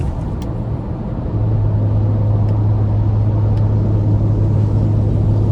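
A 2025 Ford Ranger Raptor's 3-liter EcoBoost engine gives a steady, loud, close drone that deepens and strengthens after the first second, then holds an even rumbling tone to the end.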